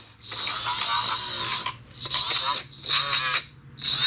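A grinding pad scrubs an engine surface with steel gasket faces during a 2011-2015 Chevy Cruze engine swap, a loud gritty whirring in several bursts separated by brief pauses.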